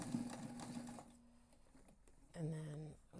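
Sewing machine stitching across a backpack seam in the seam allowance, a short buzzing run of stitches near the end after a quieter stretch, with faint talk earlier.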